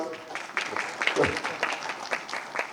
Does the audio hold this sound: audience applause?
yes